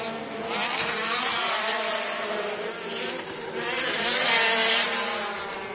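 Pro Buggy off-road racers scream through a short-course race, engines revving high and steady with rising and falling pitch as the buggies accelerate past, loud and continuous, with no talk over it.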